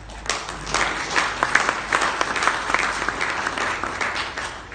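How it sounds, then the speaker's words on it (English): Steady applause from an audience at a product launch event in Kenya, a dense wash of many hands clapping at moderate volume throughout, with no voices standing out. "I hope that's not applause for me"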